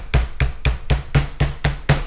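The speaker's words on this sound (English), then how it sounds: "you need to bust out the hammer, give it a little bit more of a" A hammer taps sharply on the metal end of a two-stroke expansion chamber pipe being made for an RS-100. There are eight evenly spaced, close, ringing hits in quick rhythm, with no talk.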